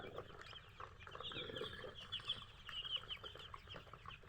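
Farm chickens cluck quietly at a distance, scattered soft calls with a bit of wing flapping over faint background noise and no talk.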